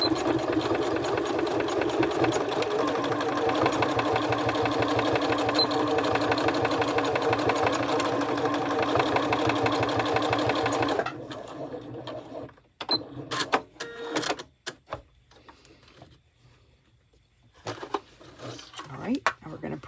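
A sewing machine stitches a dog collar in a steady, rapid mechanical chatter for about eleven seconds, then stops, followed by scattered clicks and handling noises from the machine.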